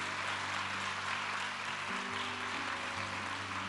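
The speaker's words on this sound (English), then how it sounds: "everybody clap to welcome them to the front" A church congregation claps steadily throughout, a dense, even wash of many hands at a service, with no breaks or swells and no talking.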